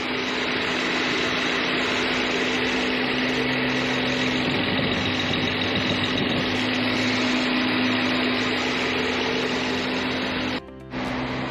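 A 2019 Rolls-Royce Wraith engine runs at a steady idle, a smooth, constant hum with a faint whine on top that goes on unbroken for several seconds before a brief dropout near the end.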